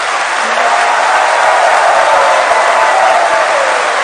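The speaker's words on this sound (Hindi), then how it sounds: "वो लोग ताली बजाकर, हाथ उठाकर समर्थन करें।" A studio audience at the Aap Ki Adalat show with Nitin Gadkari claps in support, a loud, steady, dense wash of applause with faint cheering that runs unbroken for several seconds.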